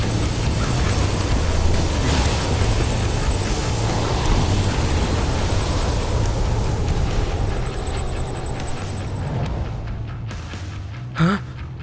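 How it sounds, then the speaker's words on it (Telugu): A cartoon Beyblade spinning top unleashes its Super Sonic Bomb attack in a loud, sustained rushing roar of a blast that holds steady for several seconds before thinning out near the end. "Super sonic bomb."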